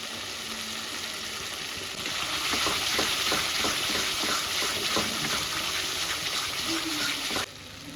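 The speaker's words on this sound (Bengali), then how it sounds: "মশলাটা এই দেখুন সুন্দর করে কষানো হয়ে গেছে" A paste of ginger, cumin, coriander and dried Kashmiri chili frying in a pan gives a steady, close sizzle that swells after two seconds, holds, then drops away near the end.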